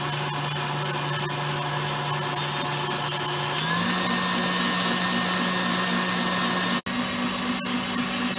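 An electric stand mixer whisks a large quadrupled batch of hard meringue in a steady, loud whine that rises slightly in pitch partway through and keeps running with a brief dip near the end.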